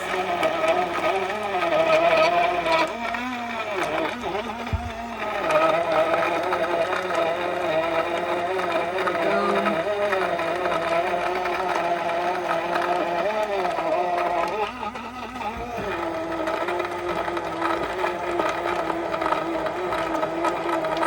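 A compact cordless Jayrooot blender churns ice, fresh fruit and a little protein powder for a full minute. It makes a loud, continuous motor whine whose pitch wavers and dips as the load shifts and the jar is shaken.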